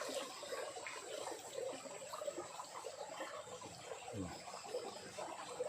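A small river flowing under trees, a steady, soft wash of running water, continuous and fairly distant, with no talking.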